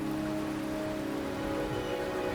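Steady rain pours down in the video game Wuthering Waves, a dense, even hiss of drops hitting surfaces that holds constant throughout with no voices.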